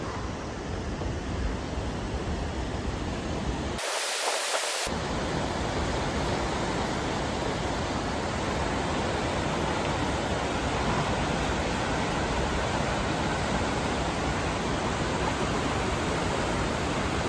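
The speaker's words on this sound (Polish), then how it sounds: "Wow, widzowie, niesamowita moc jest tego wodospadu." The Song Hamid waterfall on Don Det, Laos, rushes with a powerful, unbroken roar, loud and close throughout, with one brief dropout partway through.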